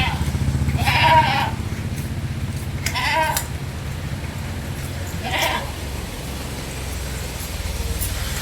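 Goats bleating at a livestock sale, three distinct calls spaced a couple of seconds apart over a steady low rumble of background noise.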